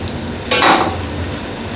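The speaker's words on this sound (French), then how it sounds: "fouetter pour qu'elle soit bien lisse" A whisk stirs a heated cream and milk sauce in a pan, a soft continuous sizzling churn with one brief louder scraping swish partway through, no voices.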